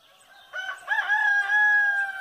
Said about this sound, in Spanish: donde cantan los gallos.